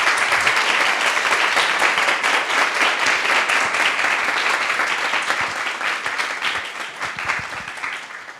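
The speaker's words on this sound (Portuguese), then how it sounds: "pedir uma salva calorosa de palmas ao nosso convidado." Sustained applause from an audience welcoming a guest at a talk event in Rio de Janeiro, a dense wash of many hands clapping that stays strong before tapering slightly toward the end.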